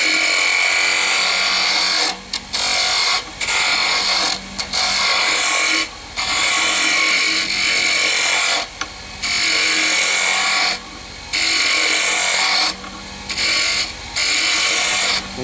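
A chess rook being shaped on a wood lathe, with a steady broadband scraping and cutting hiss interrupted by brief pauses as the tool lifts off the spinning wood.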